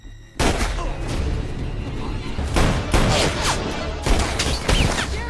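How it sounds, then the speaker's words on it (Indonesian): Cartel gunmen open fire in a sudden attack, a loud, dense fusillade of overlapping gunshots with repeated sharp bursts throughout and a clamorous, chaotic backdrop. "para kartel langsung melepaskan tembakan"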